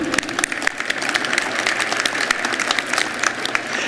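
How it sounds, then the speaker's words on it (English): Loud, close applause from an audience at a business awards presentation, many distinct claps crackling in a dense, lively burst that stays strong throughout. "That deserves a round of applause too."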